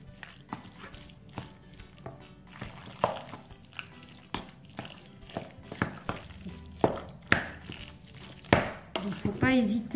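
Spiced kebab meat being mixed with table oil in a bowl, soft wet squelches and scrapes recurring irregularly, close by, with a few sharper utensil knocks.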